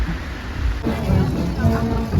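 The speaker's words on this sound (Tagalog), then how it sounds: "Grabing uwan." Heavy rain falls in a large garden during a cold spell, a broad, continuous wash of dense hiss that swells louder after the first second and stays steady, close and enveloping.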